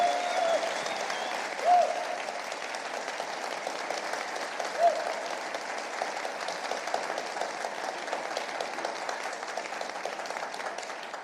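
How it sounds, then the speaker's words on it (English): An audience at the Free Iran 2021 summit in Washington breaks into sustained applause, a dense, even clapping that carries on for over ten seconds with a couple of louder swells. "And you could give Mark Short a round of applause"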